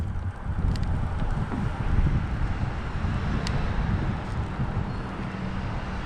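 Wind buffeting the microphone while fishing outdoors in cold conditions, a continuous low roaring rumble with gusty swells throughout and no talking.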